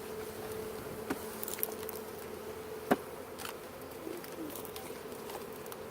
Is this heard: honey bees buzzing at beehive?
yes